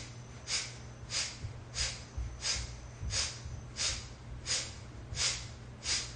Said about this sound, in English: Kapalabhati breath.